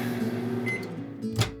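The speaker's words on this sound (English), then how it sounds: "I'm gonna microwave my coffee." A microwave oven heating a cup of coffee gives off a steady low electric hum, closer in and fairly loud, with a brief clunk near the end.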